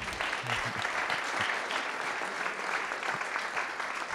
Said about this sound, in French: On va applaudir quand même ça.